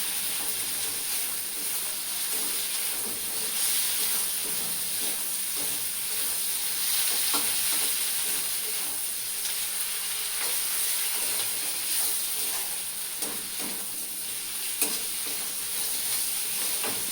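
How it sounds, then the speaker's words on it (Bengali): Prawns frying together with onions in a pan give a steady, close sizzle with soft stirring scrapes running throughout, and no one speaks. "আমি একসঙ্গে পেঁয়াজের সঙ্গে আলাদাভাবে একটু ভেজে নিলাম"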